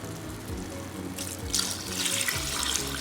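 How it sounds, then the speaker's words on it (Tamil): Measured water poured into a pot of rice for chicken biryani, a steady splashing gush that grows louder and brighter partway through, close and alone. "இப்போ தண்ணியை இதில் ஆட் பண்ணிக்கலாம்."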